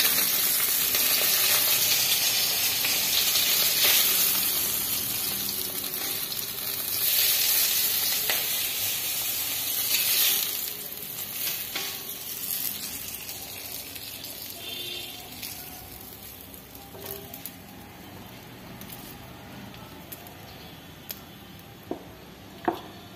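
Fried fish tipped into a pan of vegetables, with steady loud sizzling and frying that fades to quieter crackle with occasional clinks near the end.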